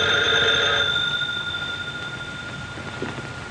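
A telephone bell rings in a 1942 radio drama, loud and close at the start with steady tonal ringing that fades after about a second, leaving a quiet hiss.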